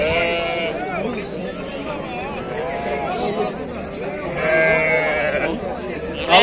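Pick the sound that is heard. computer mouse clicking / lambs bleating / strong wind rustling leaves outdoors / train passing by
lambs bleating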